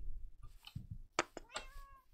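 A house cat meowing close by, a few short soft meows and chirps spread over two seconds in a quiet room.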